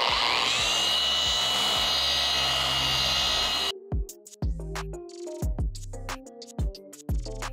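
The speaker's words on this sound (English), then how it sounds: "you're just gonna turn the polisher on and then blow out all the material that's" A car paint polisher whirs loudly and steadily for several seconds, then cuts off, leaving intermittent clicks and knocks, during paint correction work on a BMW.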